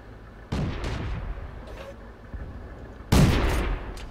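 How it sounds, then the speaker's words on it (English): A tank's main gun fires in World of Tanks in two loud, close blasts a few seconds apart, each a sharp crack with a deep rumbling tail, over a quieter background of engine hum. "Damn, missed the shot."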